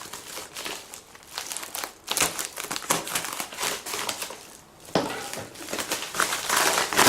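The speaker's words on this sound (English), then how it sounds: "Hack through the FedEx pack." A FedEx shipping pack is hacked open with a large knife and ripped apart, giving loud, close crinkling, crunching and tearing of plastic and cardboard in continuous bursts with brief pauses.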